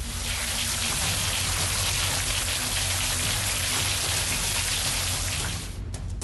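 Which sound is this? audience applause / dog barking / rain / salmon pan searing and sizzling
rain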